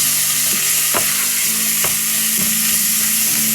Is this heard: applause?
no